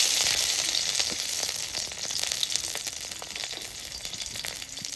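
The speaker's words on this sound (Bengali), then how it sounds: "এখন তেলের মধ্যে রসুন দিয়ে দিই।" Garlic fries in hot oil in a village-style kitchen, a continuous close sizzle and crackle with a soft steady hiss and light popping, slightly easing off over the few seconds, without talk.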